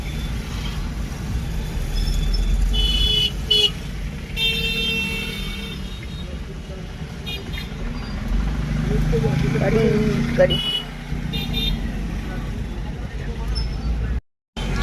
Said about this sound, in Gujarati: ચલો બધો ટ્રાફિક થઈ